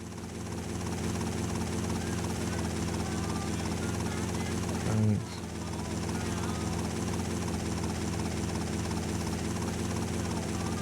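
A helicopter in GTA Vice City Stories on PS2 keeps up a loud, continuous rotor drone throughout, with one brief low thump midway and a faint voice underneath.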